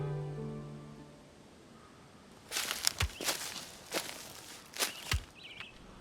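Footsteps walking alone into a forest, about six crunching steps in an uneven rhythm on leafy undergrowth, close and fairly loud, following a brief stretch of faint tonal background.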